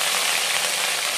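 Cumin seeds and ginger crackle and sizzle in hot oil, a steady bright frying hiss that fills the short moment with no voices.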